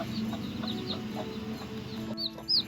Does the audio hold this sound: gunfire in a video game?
no